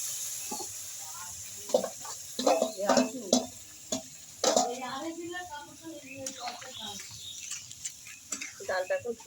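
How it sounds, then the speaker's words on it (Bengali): Chana dal is tipped into frying masala in a pan and stirred, giving a run of scraping, clattering strokes and a soft sizzle under a spoken voice. "এবার আমি ডালটা দিয়ে দেবো"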